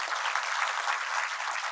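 An audience at a regional quiz event applauds a person called up from NISM, giving a steady, even wash of many hands clapping at moderate distance, with no voices standing out.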